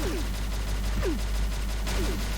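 Ex 8.5 shotgun in the online shooter game XSHOT firing in quick repeated bursts, a steady stream of shots over a constant low game rumble, with a few short synthetic whooshes.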